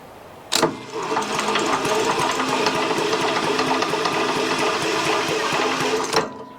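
A Briggs and Stratton small engine with no spark is spun over by hand, giving a steady mechanical whirring and clattering that starts abruptly, holds even and close for several seconds, then cuts off.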